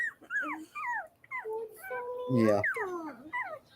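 A puppy whimpers and yips in a rising and falling series of high, close whines, with a louder burst in the middle, while people talk nearby.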